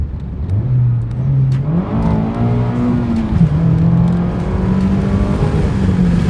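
A 2022 Mazda Miata RF pulls hard from inside the cabin, its engine note climbing steadily through the revs, with a brief dip at a gear change before rising again, loud and smooth.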